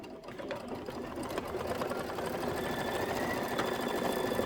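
An embroidery sewing machine stitches a clover quilting stitch on a quilted table topper block, giving a steady, dense, continuous mechanical whir with rapid needle rhythm that holds close and loud throughout, with no talking.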